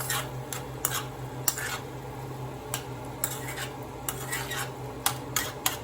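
A utensil stirs Puerto Rican yellow rice ingredients in a pot, giving sharp irregular clinks and scrapes against the metal over a faint low hiss; close and clear, with no voices.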